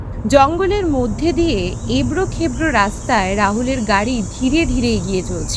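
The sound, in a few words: crickets chirping in forest, story sound effect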